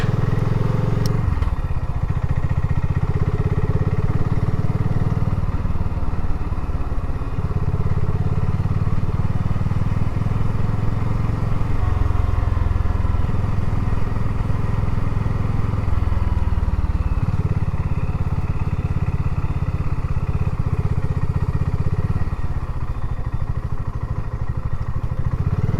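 A BSA Goldstar 650 motorcycle rumbles steadily down a rough, steep cobbled lane, its engine loud and close throughout with a continuous low throb and slight shifts in pitch.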